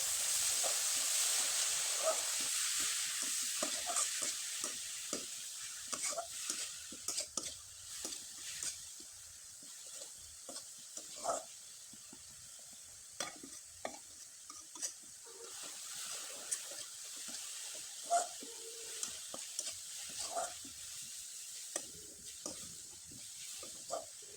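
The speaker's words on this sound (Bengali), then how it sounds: "এখন এখানে কিছুটা পরিমাণে নারকেল কোরানো দিয়ে দিব। আর খুব ভালোভাবে নেড়ে চেড়ে শুকনো শুকনো করে" Grated coconut filling for pitha being stirred and dry-roasted in a pan, with soft scraping strokes and faint hiss repeating steadily throughout, close and fairly quiet with no talking.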